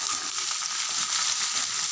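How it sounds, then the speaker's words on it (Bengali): Potatoes and eggplant frying together in a pan, a dense, bright, even sizzle that holds steady throughout, close and loud with no speech. "এদিকে আলুগুলো একটু ভাজা ভাজা হয়েছে, এখন বেগুনগুলো দিয়ে দিচ্ছি"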